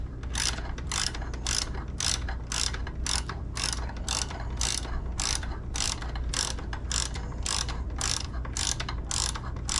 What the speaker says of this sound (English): Gotta remove this bolt and replace it with a shorter one after I remove the spacer off of it.